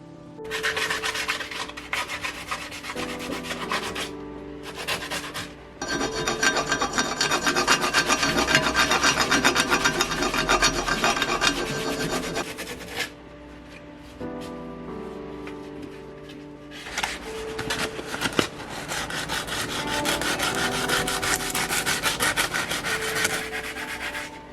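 Steady rasping strokes of sandpaper scrub against a wooden knife handle in long bursts, pausing briefly before resuming, close and fairly loud.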